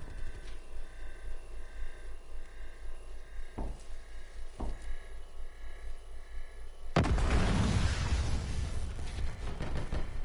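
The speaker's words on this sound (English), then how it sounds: "Throwing cluster grenade." A cluster grenade in a tactical shooter video game bursts into a loud, broadband blast with a rumbling tail, following a few sharp earlier pops over steady game ambience.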